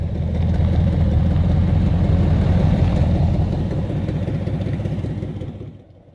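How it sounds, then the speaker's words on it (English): A 1942 Chevrolet rat rod with a V8 engine running close by, a loud steady idle with throaty low rumble and clattery texture that fades off sharply near the end. "V8 engine."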